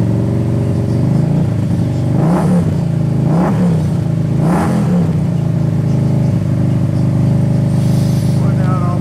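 A car engine runs loud and close with a steady rumbling idle, swelling in three brief revs before settling back.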